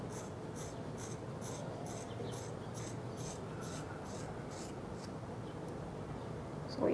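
Scissors snipping hair during a layer haircut, a close, quiet run of about a dozen evenly spaced crisp cuts over a soft background hiss.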